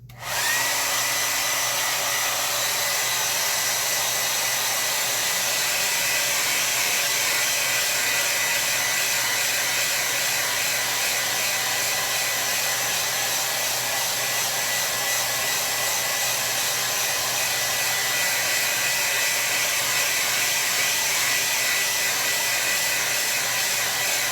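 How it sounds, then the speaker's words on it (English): A blow dryer runs steadily at full power for the whole stretch, drying a freshly painted watercolor landscape with a loud, unbroken whoosh and no pauses. "I'm going to do a dry off with the blow dryer"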